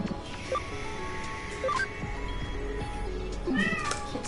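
A cat meows a few times, short tonal cries spread across a quiet indoor background with a faint hum, the last meow rising and bending near the end.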